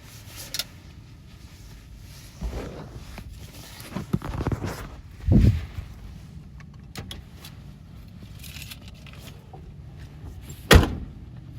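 A car door thuds shut amid handling noises inside a vehicle, with a few scattered clunks and one sharp, loud slam near the end, all close by and with no talking.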